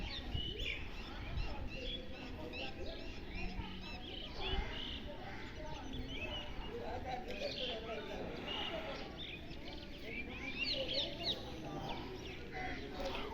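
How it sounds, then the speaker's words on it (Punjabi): In a village among trees, many birds, including parrots and crows, chirp and call continuously at a distance, a faint and busy chorus with a voice talking over it. "ਦੇਖੋ ਕਿੰਨੀਆਂ ਆਵਾਜ਼ਾਂ ਆਉਂਦੀਆਂ ਪੰਛੀਆਂ ਦੀਆਂ ਤੋਤੇ ਬਹੁਤ ਆ ਤੋਤੇ ਕਾਂ"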